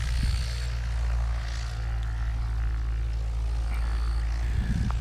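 A parked Cessna airplane with its propeller spinning, a steady low engine drone holding throughout at moderate distance amid hot afternoon outdoor ambience near an airport in Tokyo.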